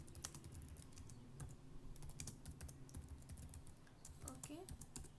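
Quiet typing on a computer keyboard, a loose run of soft, close key taps in an uneven rhythm over a faint steady background hum.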